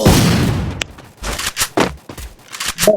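Free Fire video game gunfire and impacts, a loud rumbling burst at first that breaks into scattered shots and thuds, close and uneven, with faint movement sounds between them.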